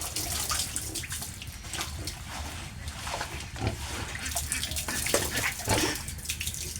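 Pigs on a pig farm grunting and squealing amid continuous splashing water, a busy, steady wash of sound close by with no clear speech.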